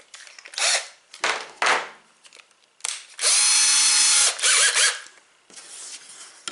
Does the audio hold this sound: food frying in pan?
no